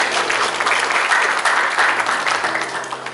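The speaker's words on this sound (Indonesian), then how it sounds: "anak-anak yang hebat ini, tepuk tangan dulu semuanya." Children and adults at a children's forum congress give a loud, sustained round of applause. The dense clapping fills the whole moment and eases slightly toward the end.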